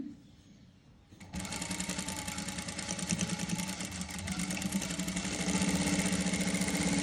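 Sewing machine stitching a saree blouse, starting after a brief quiet moment and then running in a fast, steady mechanical chatter close up until the end.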